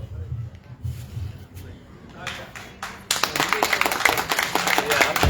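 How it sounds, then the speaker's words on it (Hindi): A group at a yoga class in Virar, Mumbai claps. A few scattered taps early on give way to steady, fairly loud rhythmic clapping, with a voice speaking underneath. "तालियां मत बजाओ।"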